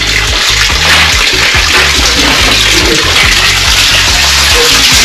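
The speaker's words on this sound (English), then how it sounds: "Bathroom water, I'm gonna flush it." A toilet flushes in a home bathroom, a loud continuous rush of water that roars steadily from start to finish with no voices over it.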